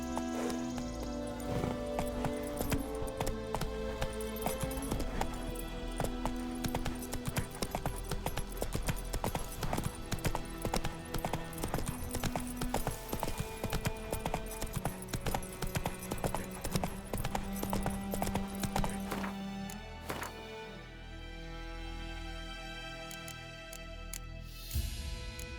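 A horse gallops in The Witcher 3 video game, its rapid clip-clop hoofbeats running steadily for about twenty seconds over game music before fading out near the end.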